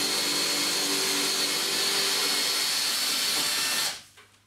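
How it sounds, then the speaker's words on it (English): A power drill bores an 18mm hole in plasterboard for a wall fixing, one loud steady whine held close for about four seconds before cutting off, followed by a faint knock. "I'm going to start off by drilling an"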